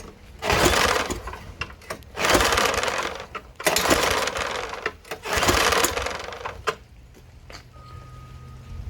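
Four rough, surging bursts of an 8 horsepower snowblower engine being pulled over by its recoil starter during a compression test, each a rattling churn of about a second, close by, separated by short pauses, with no talking.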